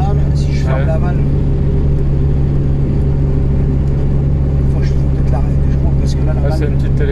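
An Alpine A110 idling with its exhaust valve closed, a steady low engine hum under close-up talk, with faint higher chirps now and then.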